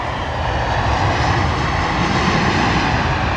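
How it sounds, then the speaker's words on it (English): A British Airways Boeing 787 Dreamliner at London Heathrow gives off a close, loud, continuous jet engine roar, dense and rumbling, with no pauses and no voices. "British Airways Dreamliner."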